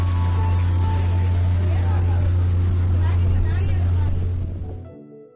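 A steady, loud boat motor drones throughout with water wash around it on a boat ride at Sakrebyle Elephant Camp, then fades out abruptly near the end.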